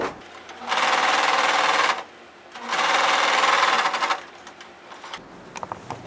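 A sewing machine runs in two steady bursts, each around a second and a half long, stitching the side seam of a back skirt piece, with quiet pauses and faint handling noises in between.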